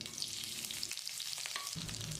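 Cinnamon, cloves, cardamom, fennel seeds and curry leaves frying in hot groundnut oil in a pan, a close, steady crackling sizzle with a brief stir partway through.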